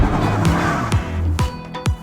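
A 2019 Genesis G70 with the 3.3-liter twin-turbo engine and all-wheel drive revving hard at a launch-control attempt, loud close engine drone with repeated sharp surging bursts, no talking.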